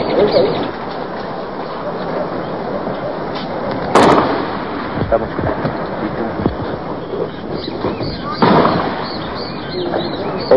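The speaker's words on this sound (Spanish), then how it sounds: "nuevamente comienzan los disparos" Gunfire during the January 1989 armed attack on the La Tablada army barracks, captured in archive footage: a few sharp, distant cracks stand out from a noisy outdoor background, with birds and voices audible.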